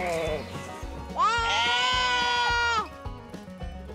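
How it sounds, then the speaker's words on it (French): Sheep grazing in a meadow, one clear drawn-out bleat of about one and a half seconds close by, among soft background sounds and a faint voice. "Il y a les moutons qui broutent l'herbe dans une prairie"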